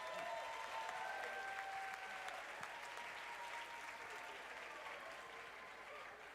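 Steady, dense audience applause for award winners at the Camp Hollywood 2022 dance event awards ceremony, heard alone and holding loud for the whole stretch before tapering slightly near the end.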